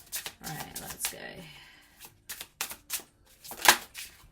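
Oracle cards being shuffled up close, heard as quick papery riffling bursts and taps that stop and start, with brief vocal sounds mixed in.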